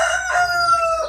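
A fighting cock crows once at close range, a loud, ringing call lasting about a second with a drawn-out middle and a falling end.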